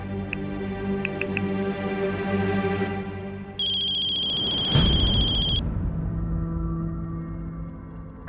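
A mobile ringtone rings out clearly for a couple of seconds amid a steady background hum, then stops.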